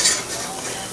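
Tomato paste and onions cooking over low heat in a pan, giving a steady soft sizzle with a brief stirring scrape at the start, close and moderately quiet, no voices.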